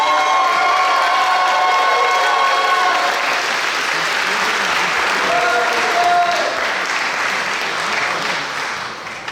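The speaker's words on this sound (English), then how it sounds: "can we get a round of applause for our FSA Eagles?" A Culture Night crowd applauds and cheers loudly, dense clapping mixed with shouts, whoops and children's voices, sustained for several seconds before easing off.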